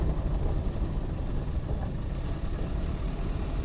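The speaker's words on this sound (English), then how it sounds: "All right, so downshifting into third gear." 1989 Land Rover Defender 110 with a 200Tdi diesel engine, running steadily with a low rumbling drone while downshifting gears, continuous and fairly loud with no speech.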